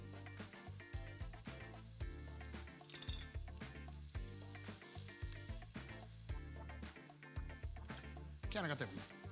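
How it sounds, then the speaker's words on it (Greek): Chopped onion and two cloves of garlic sizzle in olive oil in a pan for a Greek potato stew, a soft steady hiss sitting under loud background music, with a voice also heard. "Λοιπόν, ρίχνουμε το κρεμμύδι, 2 σκελίδες σκόρδο"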